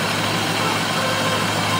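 Engine of a drift car idling steadily on fresh oil, fitted with an eBay short ram intake and eBay headers; a loud, continuous low rumble with broadband roar, holding even throughout.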